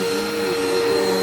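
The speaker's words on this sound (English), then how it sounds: "I'm running out of cord and I'm running out of time" A Bissell Powerforce Helix vacuum cleaner runs with a steady, loud motor whine and a constant airflow hum, close by and uninterrupted.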